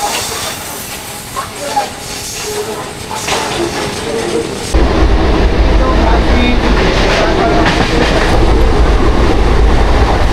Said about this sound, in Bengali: ঠিক 1টা 50-এ আমাদের ট্রেন ছেড়ে দিল কাটোয়া জংশনের 6 নম্বর প্ল্যাটফর্ম থেকে